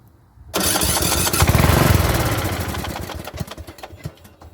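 A Bolens riding mower engine cranks loud and close after a short quiet start, turning over hard with a rough, churning rhythm that fades into uneven sputtering without settling into a steady idle.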